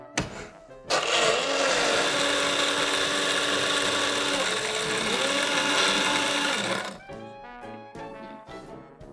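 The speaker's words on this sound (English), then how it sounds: "Stick it in the blender." A blender crushes rum and ice for a frozen daiquiri, a loud steady whirring grind that starts abruptly, holds for several seconds with slight pitch dips, then cuts off.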